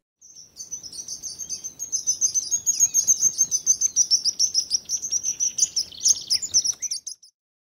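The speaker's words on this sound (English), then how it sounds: "Sparrow." A sparrow chirps on its own, a near, bright run of rapid repeated tweets lasting several seconds with no other sound around it.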